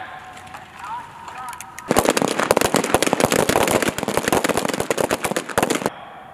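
Rapid pistol gunfire at a US Army small arms shooting competition, a dense string of sharp close shots ringing out for about four seconds after a brief quiet lead-in, then stopping abruptly.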